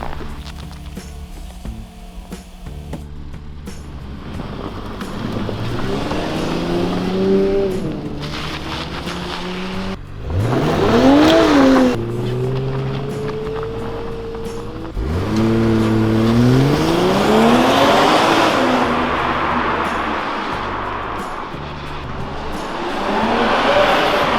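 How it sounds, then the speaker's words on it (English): A 2021 BMW 540i xDrive M Sport all-wheel-drive car's engine revs and strains repeatedly on snow, pitch rising and falling as it accelerates, with steady wheel and road noise underneath throughout. "Let me just show you how the xDrive works on the snow"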